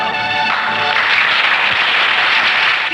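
Steady, loud applause from a crowd at a stage function in the 1970 Hindi film Mastana, a dense continuous roar of clapping for the full three seconds with no voices above it.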